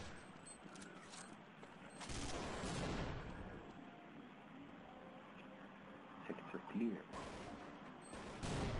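Sniper rifle gunshots in Counter-Strike 1.6 on the de_dust2 map come as a few sharp cracks over continuous game noise, with someone talking at times.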